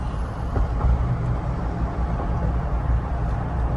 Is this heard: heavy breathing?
no